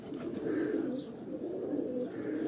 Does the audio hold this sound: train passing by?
no